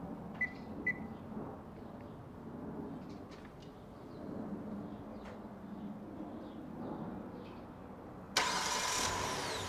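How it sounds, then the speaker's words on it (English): A Kia Sedona (Carnival) minivan starts by an OEM key-fob remote starter: a few faint clicks and quiet background, then the engine cranks and catches near the end, settling into a steady running sound. "And here you go, the car is started."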